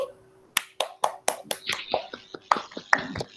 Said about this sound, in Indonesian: Aplaus dulu untuk Feli.